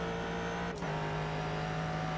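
A loud, sustained race car engine drone in iRacing at The Glen, broken by one short dip like a gear change, then returning to a steady high-revving whine.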